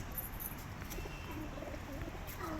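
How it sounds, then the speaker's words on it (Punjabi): A pair of pigeons gives soft, low cooing calls, faint and somewhat distant against a steady background hiss, with no voices. "ਕਬੂਤਰੀ ਆ ਗਈ ਤੇ ਹੁਣ ਕਬੂਤਰ ਆ ਗਿਆ"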